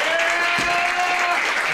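A comedy club crowd applauds and cheers for a stand-up host, a loud dense wash of clapping that carries throughout, with a brief thump partway and faint voices mixed in.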